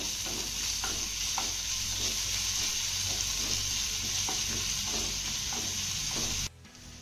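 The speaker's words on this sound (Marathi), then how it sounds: "आता हे सर्व साहित्य आपल्याला एक मिनिटभर चांगलं परतून घ्यायचं आहे" Cashews, melon seeds, garlic and grated ginger sauté in a pan, a steady bright sizzle with soft, intermittent stirring taps, close and continuous until it cuts off sharply near the end.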